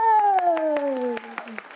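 Scattered clapping from a studio audience on a Thai sales-competition show, a few sharp claps sounding under a long, sliding sung or held vocal tone that carries across the whole short moment.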